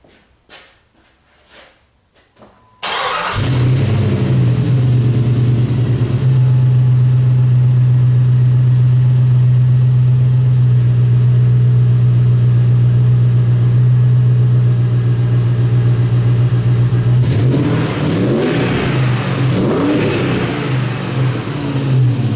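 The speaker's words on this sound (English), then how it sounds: "So the truck fired up on the first turn of the key." A Jeep/Dodge 4.7 V8 truck engine, fresh from a timing chain swap, cranks briefly, catches with a rev, then settles into a loud steady idle up close, with a second revving swell near the end.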